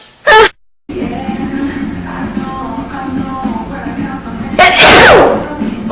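Two sharp human sneezes, one near the start and a louder burst near the end, with a person's voice groaning and murmuring between them.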